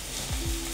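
Potato and fried egg sizzling in plenty of hot oil, a close crackling fry with a couple of brief low bumps as the food shifts in the pan.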